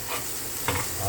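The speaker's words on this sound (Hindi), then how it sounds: "और इस पर हम तड़का लेंगे ज़बरदस्त" Steady sizzling of tempering spices frying in hot oil, with a brief louder burst of crackling partway through.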